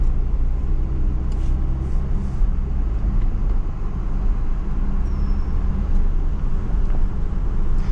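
Steady low rumble of a 2023 Porsche Panamera cruising in regular mode, with continuous road and tire noise heard from inside the cabin, even and unbroken throughout.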